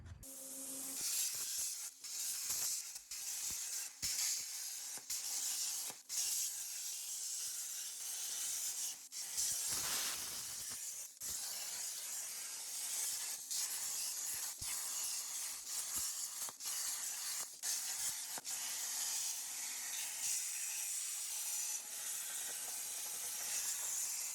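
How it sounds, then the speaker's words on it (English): CNC machine cutting custom motor mount parts for a Honda K24 AWD swap into a Ford Escort, a steady hissing cut running throughout with regular short breaks and repeated ticks, fairly loud and alone. "let's go ahead and cut that out in the CNC"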